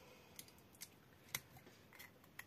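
Scissors being unpacked and handled during a craft haul: a handful of soft, close clicks and light metallic taps at irregular intervals in a very quiet room.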